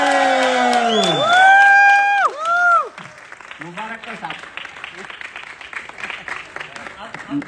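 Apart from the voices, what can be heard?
crowd clapping loudly and whistling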